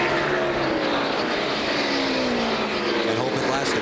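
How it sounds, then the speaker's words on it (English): A NASCAR stock car at the 2003 Checker Auto Parts 500 screams at full throttle into turn 3, its engine note sweeping and stuttering against the rev limiter. The roar is loud and continuous, with crowd and track noise underneath. "Michael all over the limiter. Rev limiter going into turn 3. Hear the car."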